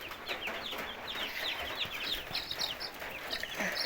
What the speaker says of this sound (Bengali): এই এটি হলো ব্রয়লার মুরগি